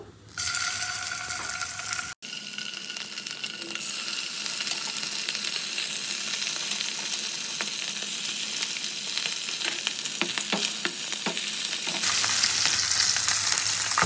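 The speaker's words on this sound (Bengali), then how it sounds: "এবার এক এক করে মাছগুলো দিয়ে দেবো।" Fish sizzles and crackles steadily in hot oil in a wok, a loud continuous frying hiss with brief stirring clatter, no talking.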